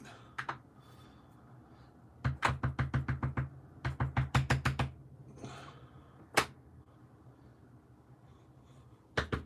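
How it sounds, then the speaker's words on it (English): Crisp paper envelopes are handled and tapped in quick rhythmic bursts of sharp rustles, close up, with pauses between. "I love the sound of the envelopes."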